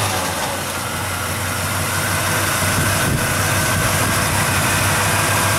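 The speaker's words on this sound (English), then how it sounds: "And if we start the car up," Steady, loud 1977 Pontiac Firebird Esprit Coupe engine idling with a constant low rumble and hiss throughout, close up and with no voices.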